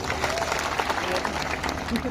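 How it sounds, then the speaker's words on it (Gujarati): Audience applause at a political rally, a dense steady clatter of many hands lasting about two seconds, with crowd noise and voices mixed into the wash. "એકવાર જોરદાર આપણે તાળીઓ પાડી લઈશું."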